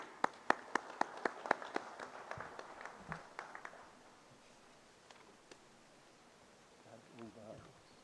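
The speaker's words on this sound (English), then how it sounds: "Please join me in giving a round of applause" Short burst of applause at an engineering and technology conference, sharp, distinct claps that thin out and fade after a few seconds, leaving a quiet room and faint murmuring.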